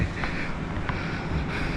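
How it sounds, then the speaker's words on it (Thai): The Nan River flows outside an open homestay window in Nan, Thailand, making a steady, even rush of water with light wind noise and no voices. "แบบนี้เปิดกระจกออกมา นี่เลยก็ฟังเสียงน้ำไหลแบบชิวๆได้"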